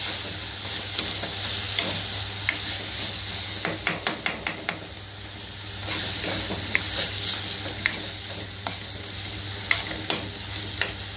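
Fresh grated coconut masala sautés in a pan for a prawn curry, giving a continuous close sizzle. A spatula scrapes and taps the pan, with a quick burst of clicks partway through, and no one speaks.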